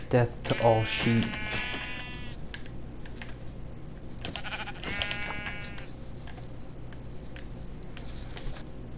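Sheep in the Minecraft video game bleating, several short wavering baa calls in two clusters over faint background tapping, fairly clear and up front.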